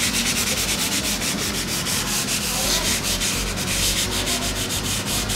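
Steady, even rasping of light sanding across a hard textured stucco paint finish, continuous and close with a soft scratchy rhythm, no voices.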